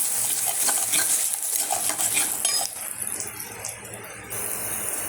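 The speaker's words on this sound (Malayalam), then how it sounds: "ഇത് ഇത്രയും കൂടി ഒന്ന് ഇളക്കി നമുക്ക് ഈ വെളുത്തുള്ളി കൂടി ഇതിലേക്ക് ഇട്ടൊന്ന് വഴറ്റും" Garlic is stirred and sautéed in a pan for rasam, a bright sizzle with scraping spoon strokes and metal clinks, close and steady before the frying noise drops lower.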